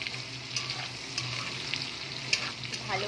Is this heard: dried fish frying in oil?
yes